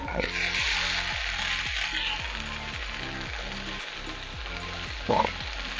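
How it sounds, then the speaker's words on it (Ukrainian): Steady, loud sizzling of large potato wedges frying in hot oil, with a low rhythmic thumping pulse running underneath throughout. "Поки смажиться наша картопля"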